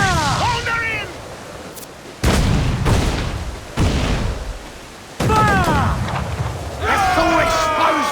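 Heavy cannon and mortar fire from sailing warships in the Assassin's Creed IV Black Flag video game: several loud booming blasts arrive in bursts, with shouted crew voices and battle noise around them.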